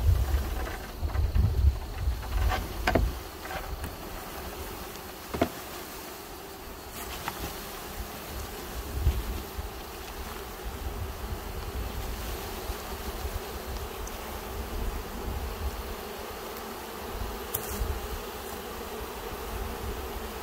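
A dense swarm of honeybees buzzes as a package colony is shaken out into a hive, a steady close hum with a few sharp knocks and bumps near the start and no speech.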